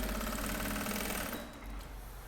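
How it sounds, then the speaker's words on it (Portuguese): A sewing machine runs continuously while stitching a seam on a trapezoid box toiletry bag, a steady close mechanical whir that slows and drops in pitch near the end. "Vou lá na máquina e passo uma costura."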